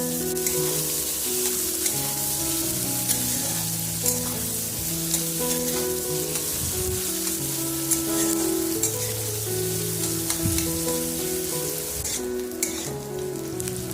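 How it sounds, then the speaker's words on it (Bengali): Chopped onion frying in a pan for a raw jackfruit curry gives a loud, steady, close sizzle that runs unbroken throughout, over soft tonal background music. "পেঁয়াজটা কুচি করা ছিল সেটা দিয়ে খুব ভালো করে ভেজে নেব"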